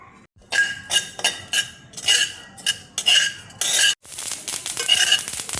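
Flax seeds are stirred and dry-roasted in a pan, a spoon scraping them in repeated bursts of rattling, clinking scrapes, close and fairly loud, ending in a continuous rustle.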